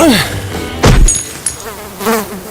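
Insects buzzing around a camp in an abandoned city, short whining flybys passing close to the microphone, with a dull thump partway through.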